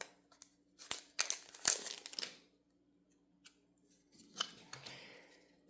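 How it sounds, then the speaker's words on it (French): Foil wrapper of a Pokemon booster pack torn open by hand, a close crinkling rip in short bursts followed by quiet, then a softer second round of rustling. "Mince, celui-ci se déchire complètement."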